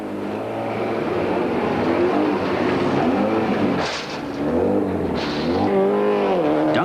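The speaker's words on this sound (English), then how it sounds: "Duncan powers the turbocharged Toyota Celica into stage 1" A turbocharged Toyota Celica rally car accelerates hard into a street stage in Ermelo, its loud engine climbing in pitch through the gears with a brief dip between shifts, heard close and alone.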